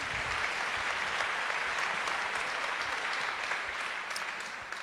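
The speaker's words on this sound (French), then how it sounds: "applaudissez-la très fort" A French-speaking audience applauds at a conference, sustained even clapping from a sizeable crowd, moderately distant and tapering slightly at the end.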